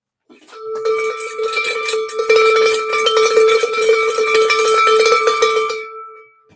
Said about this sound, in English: I ring the bell for everyone